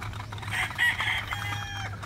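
Chickens cluck and call at a pullet-raising farm, a short, steady stretch of close fowl vocalizations over a low constant hum, with no one talking.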